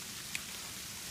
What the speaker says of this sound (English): we are starting to get some frozen rain, some hail coming down.